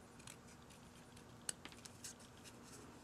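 Scissors snip through paper while a tab template for an envelope recipe book is cut out, a few faint close clicks and crisp snips, one sharper cut standing out, with a low hum underneath and no talking.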